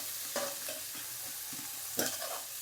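Boiled peas and onions sizzle in a pan while a spoon stirs them, steady frying hiss broken by a few scraping strokes, close and clear with no talking.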